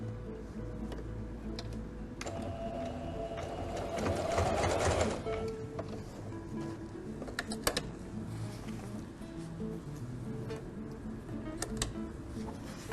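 A sewing machine runs a zigzag stitch across a fabric strap on a tote organiser, giving a quick, steady ticking whir with a louder burst in the middle and a few separate clicks around it.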